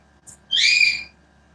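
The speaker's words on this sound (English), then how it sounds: "Freaking birds whistling away." A bird gives a bright, high whistling call lasting about half a second, preceded by a brief faint chirp, clear against near silence.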